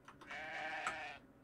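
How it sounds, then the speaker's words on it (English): A sheep with a plant growing on top of it bleats once in the Yume Nikki fangame Amillusion, a single wavering, nasal bleat lasting about a second, close and alone. "That's a sheep."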